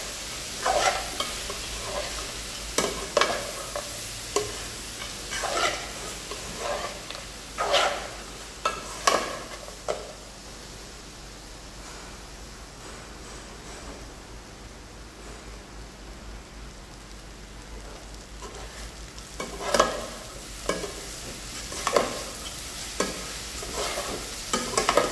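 Poha being stirred in a hot pan while it fries, with scraping strokes in irregular bursts over a steady faint sizzle, dense early on, thinning in the middle, then picking up again near the end; no talking.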